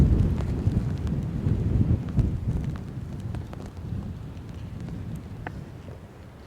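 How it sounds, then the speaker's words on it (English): Strong, cold wind roars in gusts across a treeless mountain bald during a nor'easter at 6,000 feet, a loud low rumble buffeting nearby that eases slightly toward the end. "The bald here, no trees, lots of wind."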